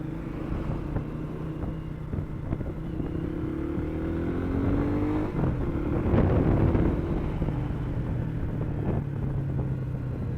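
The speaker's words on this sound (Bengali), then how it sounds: "এইভাবে জ্যামের মধ্যে আসলে বাইক চালাইতেও মন চায় না" Motorcycle and vehicle engines rumble in a traffic jam on Patenga bypass road in Chittagong, a dense continuous low drone with a passing engine swelling louder midway.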